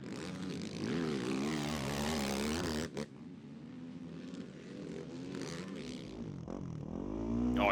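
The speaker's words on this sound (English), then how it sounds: "you hear Ford just dumping the clutch. Setting up for that corner" ATV engine at a Briarcliff motocross national race: loud revving with rising and falling pitch, a sharp cut-off near the three-second mark, then a lower drone and a final surge as the throttle opens again.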